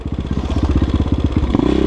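A KOVI Advance 250 enduro motorcycle engine thrums loudly and close while riding, its rapid firing pulses steady, then briefly rising in pitch as it revs.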